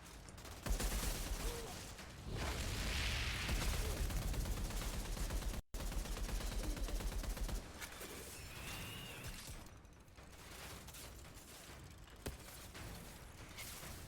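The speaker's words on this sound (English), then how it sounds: "someone's shooting from behind?" Gunfire rattles from behind in the shooter game Outriders, fairly faint rapid bursts of shots with mechanical clatter, denser early on and thinning into scattered distant pops.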